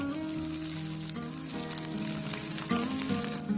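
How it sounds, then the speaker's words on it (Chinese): Scallions, garlic slices and small chili peppers sizzle in hot oil in a wok, a steady loud frying hiss with faint clinks and scraping from stirring, close and continuous with no talk. "下面锅中倒入少许的食用油，油热之后将葱花、蒜片、小米辣倒进来，"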